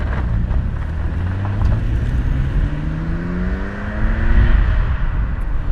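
A 1990 Nissan Skyline GTR with an RB26 2.6-liter inline-six twin-turbo engine pulls away, its low engine drone climbing steadily in pitch as it accelerates, heard from inside the car with no talking.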